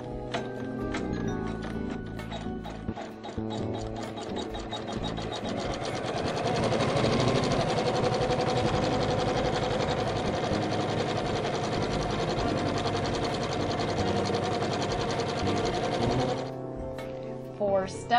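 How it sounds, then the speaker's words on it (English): Embroidery sewing machine stitching out a motif on fabric, a fast rhythmic mechanical chatter running steadily for most of the stretch before stopping, close and clear. "I'm going to go ahead and have it stitch out an embroidery motif."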